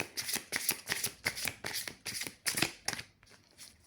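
Tarot cards are shuffled by hand in about seven quick riffling bursts, close and fairly quiet, evenly spaced, before a short soft patter trails off at the end.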